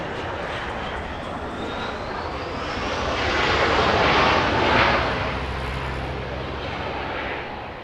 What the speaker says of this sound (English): That's a Cathay Pacific beginning to taxi heading southbound.